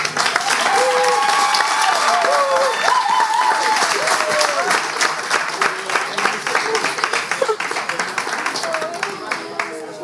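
A crowd at a competition applauds the winner with dense, sustained clapping and scattered cheers, while a voice talks over the clapping as it gradually thins out.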